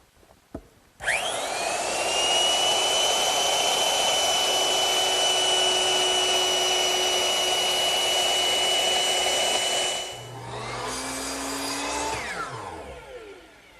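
A power router cuts a decorative chamfer along the edges of wooden panels, starting with a sharp whine and holding a loud, steady high-pitched roar for about nine seconds. It then dips, revs again briefly, and winds down.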